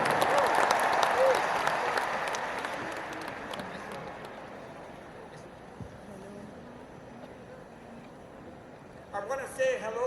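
Huge crowd applause in a stadium at a Christmas church gathering swells loudly, then fades into a long distant roar, and a voice begins speaking at the end.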